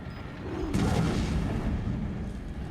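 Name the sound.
bomb explosion in a video game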